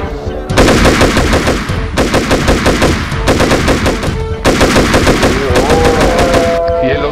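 Automatic gunfire rattles in loud, rapid bursts in the video game GTA San Andreas during a zombie shootout, with several long volleys broken by short gaps and a tonal effect near the end.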